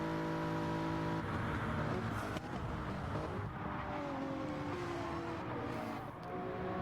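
Gran Turismo 7 race cars at Daytona roar at full speed in a close pack, layered engine notes rising and falling together as cars pass, a dense continuous racing din without voices.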